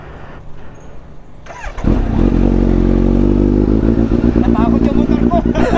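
A Motorstar Easy Ride 150 Fi motorcycle engine starts and then idles loudly up close, running steadily with some rumble and clatter while people talk faintly.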